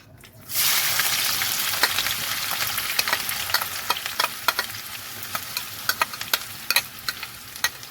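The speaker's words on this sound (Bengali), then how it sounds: "পেঁয়াজ কুচিটা ভাজতে ভাজতে বাকিটা বলছি।" Chopped onion hits a hot pan and bursts into loud, steady sizzling that continues throughout, with scattered crackles and pops over the constant frying hiss.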